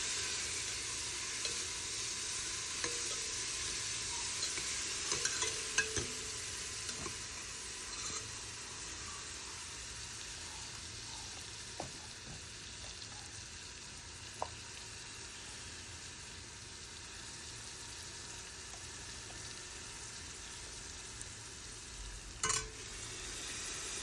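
Goat trotters for paya fry in hot oil with a steady, even sizzle, broken by occasional soft scrapes and clicks from stirring and a sharper knock near the end.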